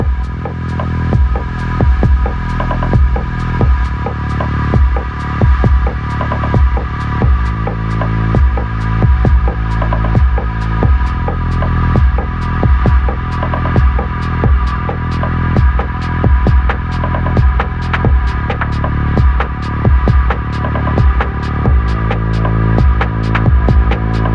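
A snowmobile engine mounted on a kids go-kart runs steadily, a loud throbbing idle with rapid regular firing pulses and a deep mechanical hum throughout, no talking.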